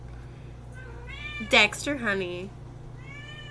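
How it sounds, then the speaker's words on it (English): A pet cat lets out a loud, drawn-out screaming meow, followed by a second shorter wail, close by, with someone speaking briefly between the cries. "Ah, my cat's screaming."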